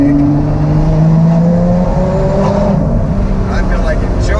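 A Lotus sports car engine hums and drones steadily from inside the cabin, its pitch shifting slightly as it cruises along, with road noise underneath.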